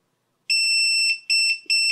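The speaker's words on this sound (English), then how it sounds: "We get our annoying beep." An ISDT FD 200 200W battery discharger sounds its completion alarm after finishing a LiPo discharge: three loud, high electronic beeps, one long then two shorter, close and alone.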